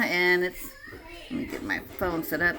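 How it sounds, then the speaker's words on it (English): Grandchildren chatter and play in the background of a home kitchen, their high voices mixing with someone speaking nearby, with shifting bursts of kid talk throughout. "that's the grandkids you hear in the background"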